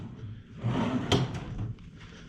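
A wooden dresser drawer in a Shades of Green hotel room slides open and shut, giving a soft rumbling glide and a light knock up close against quiet room tone.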